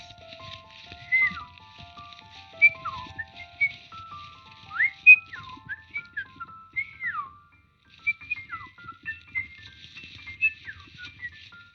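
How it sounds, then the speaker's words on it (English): Birds chirp and whistle in short, scattered phrases at a moderate distance, with a soft low rumble of ambient background underneath. "We had the sound of the birds in the distance."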